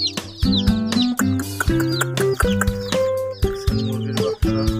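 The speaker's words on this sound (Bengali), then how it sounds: "আর মুরগির বাচ্চা" Newly hatched chicks from a homemade incubator peep in short, high, repeated chirps over a steady tonal background, close by and fairly loud.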